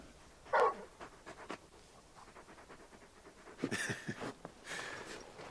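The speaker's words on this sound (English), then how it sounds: "You're just a big puppy, aren't you? A very big puppy." Torgal, the large dog in Final Fantasy XVI, pants and huffs in short, soft breaths at close range. Brief louder snorts and rustles break up long quiet gaps.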